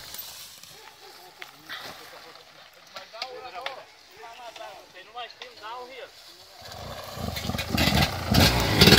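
A motorcycle engine revs while climbing uphill at Moneasa, with repeated rising and falling rev sweeps that build into a loud, close roar near the end.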